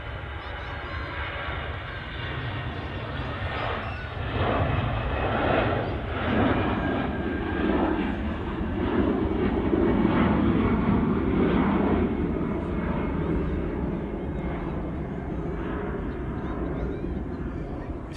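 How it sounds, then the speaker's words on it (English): An EasyJet airliner departs Manchester Airport for Geneva, its engine roar building to a broad, loud rumble in the middle before easing slightly, heard from fairly close in the open. "here is the EasyJet departing to Geneva"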